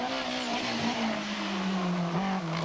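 A 1991 Lancia Integrale rally car at the Rali Vinho da Madeira drives hard, its engine a loud continuous rasp that rises and dips slightly with gear and throttle changes, steady throughout.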